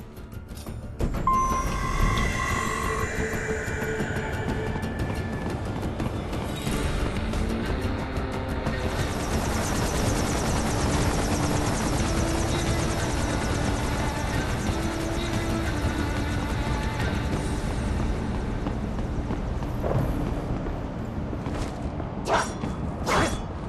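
A helicopter in the Metal Gear video game flies with a loud, steady rotor drone for the whole stretch, with occasional whooshing swells and no talking.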